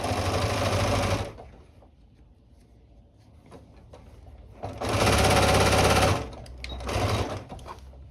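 A sewing machine runs in two loud bursts, the first about a second long and the second about a second and a half, stitching a seam down an in-seam pocket on a garment. A shorter run follows, with quiet handling noises between the bursts.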